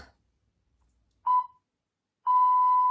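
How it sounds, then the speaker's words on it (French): After a moment of silence, a workout timer gives a short electronic beep, followed by a second, longer sustained beep at the same pitch. "Vous allez entendre le bip du timer"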